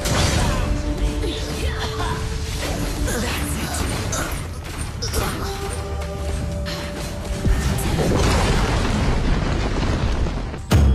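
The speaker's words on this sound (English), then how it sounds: "A red team tower has been destroyed." A tower collapses in the mobile game Arena of Valor (ROV), a booming crash and rumble over busy battle effects and chiming game sounds, ending in a sharp final blast.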